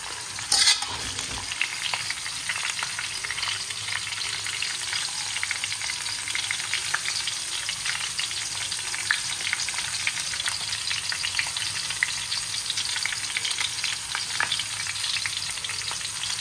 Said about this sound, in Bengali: চলো এটাকে ভালো করে ভাজতে থাকি নুন হলুদ দিয়ে